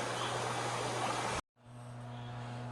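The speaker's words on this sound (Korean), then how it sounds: "물소리만 들어도 시원한 느낌입니다" Steady rushing water of a mountain stream beside an old temple on Taebaeksan, a continuous broadband wash that cuts out briefly and resumes more softly, with a faint hum underneath.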